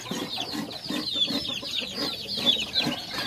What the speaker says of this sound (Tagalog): May mga sisiw siya doon. Dami, may mga sisiw.